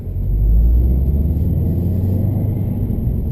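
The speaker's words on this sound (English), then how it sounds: "God, I just love the sound of that turbo" A 2016 Subaru WRX STi's turbocharged engine drones as a deep, steady rumble heard from inside the moving car, loud and unbroken with no talking.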